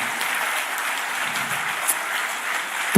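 A rally audience claps steadily and densely in a broad, continuous wash that holds for about three seconds at a fairly loud level, with no talk over it.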